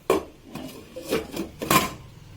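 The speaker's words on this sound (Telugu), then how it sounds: "ఇలా ఉప్పు కలిపిన తర్వాత మూత పెట్టుకోవాలి ఒక చిన్న రెండు నిమిషాలు" A handful of light metallic clanks and taps of cookware sound close by, spaced irregularly, as a lid is set onto a cooking pot; no voices.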